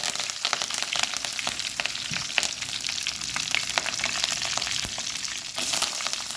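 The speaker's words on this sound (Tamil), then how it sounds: "எண்ணெய் காஞ்சிட்டு கடுகு சேர்த்துருக்கேன், கடுகு சீரகம், வத்தல் சேர்த்துருக்காங்க, கருவேப்பிலை சேர்த்துருக்காங்க" Mustard seeds, cumin, dried chillies and curry leaves frying in hot oil, a dense steady sizzle with crackling pops, close and loud throughout with no talking.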